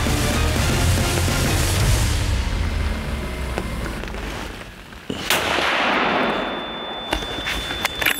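A rifle shot rings out during a bear hunt in the woods, a sharp crack followed by a second report a few seconds later, both loud and close amid outdoor ambience.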